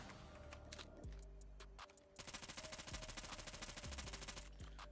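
Rapid automatic fire from an AS Val rifle in Call of Duty Mobile, a steady stream of loud, closely spaced shots that keeps going for several seconds, with a brief lull in the middle before a sharper burst resumes.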